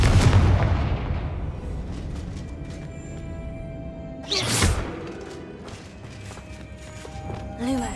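The Confringo spell in Hogwarts Legacy bursts with a sharp blast and a booming rumble that fades, followed a few seconds later by another crackling impact over a low game-world background.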